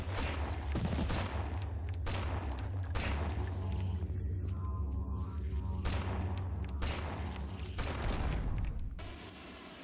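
Pistol shots in Eternal Darkness: Sanity's Requiem, several booming reports spaced a second or two apart over a low droning ambience, fairly faint and without talk.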